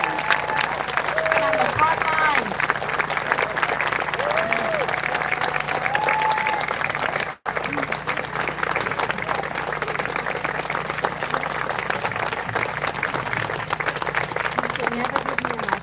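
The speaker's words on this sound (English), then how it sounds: "a little round of applause" Sustained applause from an audience, dense clapping throughout with a brief break midway, while a voice speaks briefly over it.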